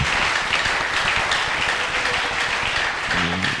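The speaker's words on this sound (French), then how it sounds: "veuillez acclamer pour le nom de Jésus-Christ" A church congregation applauds and cheers in the name of Jesus Christ during a Friday service, a dense, continuous burst of clapping from many hands lasting a few seconds.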